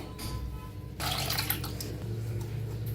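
Cold water pours into a bowl in a kitchen, a close, steady splashing stream that grows fuller and louder after the first second and keeps running to the end.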